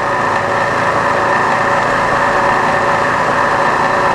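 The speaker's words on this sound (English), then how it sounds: "It's a little rattly, could be spindle motor, could be bearings in the motor for all I know." A rattly 1984 YCI Supermax Bridgeport-style vertical mill, with suspected worn spindle motor or motor bearings, runs with a loud, constant mechanical whine and hum that stays even throughout and has no speech over it.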